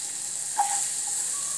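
Onion sizzling in a hot pan for spinach soup, a soft steady hiss with a brief crackle near the start, close and moderate in level, no voices.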